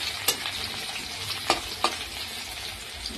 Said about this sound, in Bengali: এটাকে লাল লাল করে একটু ভেজে নেব